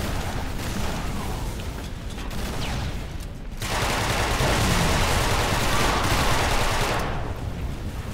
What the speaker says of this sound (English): Custom assault rifle sounds.